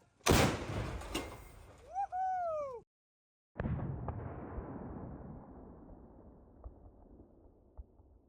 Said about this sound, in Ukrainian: Гармата!